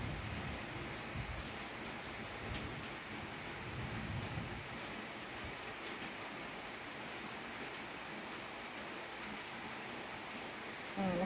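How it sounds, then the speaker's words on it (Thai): Rain falls outdoors as a faint, even hiss that holds steady throughout, with no voices. "ข้างนอกฝนยังตกอยู่เลยยังไม่หายเลย"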